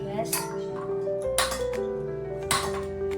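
A handheld lighter sparks a kitchen gas stove burner ready to boil Maggi noodles, giving three sharp, evenly spaced clicks about a second apart over quiet background music.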